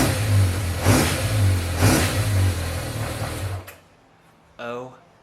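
Restored 1986 Yamaha FZ600 motorcycle engine running near and loud, revving twice in rhythmic surges before cutting out, followed by a brief voice.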